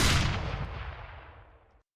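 A single heavy blast from the Force-A-Nature shotgun in Team Fortress 2, a loud boom at once that rings out and fades over nearly two seconds.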